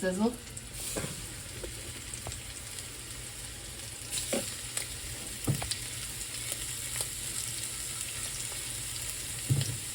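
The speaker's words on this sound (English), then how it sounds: "So we're gonna get these guys down in here so they start to sizzle." Fish frying in a pan for tacos gives a steady quiet sizzle throughout, with occasional clinks and scrapes of a utensil stirring and shifting the pieces.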